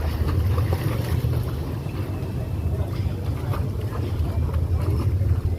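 A boat at Tonsai pier in Thailand gives a low, steady rumble with choppy water and wind noise, close and continuous, while people talk nearby.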